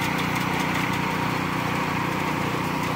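Loud, steady engines of a well-drilling rig boring a hole for a 4-inch submersible pump, a continuous mechanical drone with a dense low rumble that runs unbroken and close throughout.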